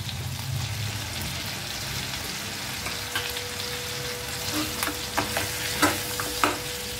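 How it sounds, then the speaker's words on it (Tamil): Ground masala paste sizzles and fries in a pan for crab masala while a spoon stirs it, with a steady sizzle and a few sharper scraping clicks near the end. "போட்டு நல்லா பச்சை வாடை போகிற அளவுக்கு வதக்கிடுங்க"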